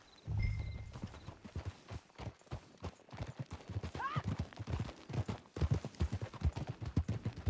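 Horse hooves clop in a steady galloping rhythm over rough ground in the video game Red Dead Redemption 2, with a brief whinny partway through and a low rumble underneath.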